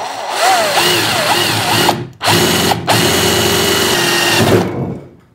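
A power drill bores a pilot hole into a Prusa 3D printer enclosure, its motor whine rising and dipping loudly and close, broken by two short pauses before it winds down at the end.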